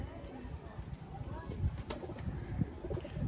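Sialkoti pigeons coo softly in a loft, low throaty calls repeating under nearby talking voices.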